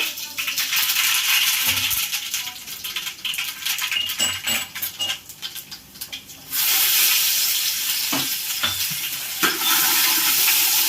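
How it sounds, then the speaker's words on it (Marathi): Cumin and mustard seeds hitting hot oil for a tempering: a loud close sizzle with crackling pops, easing midway, then surging again as more seeds or ingredients drop in, with occasional utensil knocks and no talk. "तर आता आपलं तेल गरम झालंय जिरे मोहरी टाकू"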